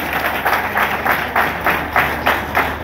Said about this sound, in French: Je voudrais que vous l'applaudissiez parce que c'est notre premier militant